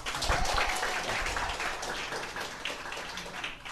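Faint, distant audience applause rolls on as a steady wash of clapping throughout, with no clear individual claps standing out.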